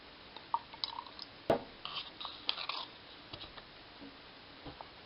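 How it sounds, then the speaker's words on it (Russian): Tablespoons of ordinary water are poured into a small screw-top jar outdoors. Faint, quiet trickles and drips come with a few brief small splashes and soft pauses between. "сюда добавляем 5 столовых ложек"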